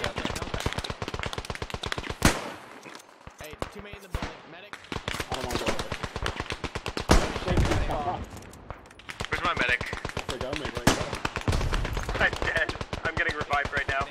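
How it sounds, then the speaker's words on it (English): Near-continuous rifle and machine-gun fire in the WWI shooter game Beyond the Wire, dense overlapping shots near and far, with players talking over the battle. "He's shooting at me."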